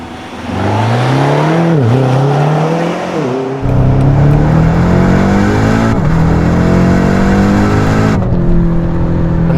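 A BMW M8 Competition accelerates hard, its engine tone climbing steadily through gears with brief dips at each shift, loud and continuous from inside the car.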